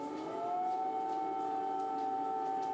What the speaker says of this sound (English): another night filled with the wailing of sirens